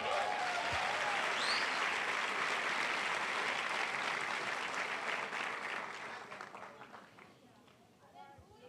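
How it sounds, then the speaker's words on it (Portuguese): A church congregation at a family service bursts into loud, dense applause with some cheering voices mixed in, holding strong for several seconds before gradually fading out. "Aplauda o Senhor."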